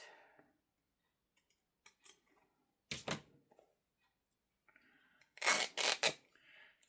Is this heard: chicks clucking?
no